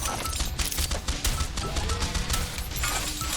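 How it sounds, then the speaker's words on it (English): Rapid gunfire from the game Swarm Grinder rattles on without a break, a dense stream of overlapping shots over a busy low rumble of game noise, with no voices. "As you can see, I'm shooting way faster."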